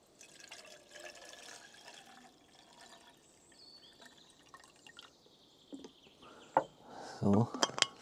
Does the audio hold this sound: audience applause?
no